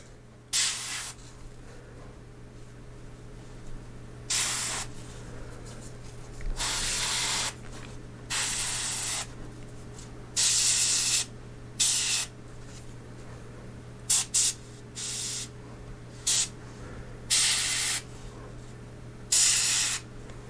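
A Badger Sotar 20/20 airbrush sprays in repeated short hissing bursts of uneven length, separated by pauses, over a low constant background hum.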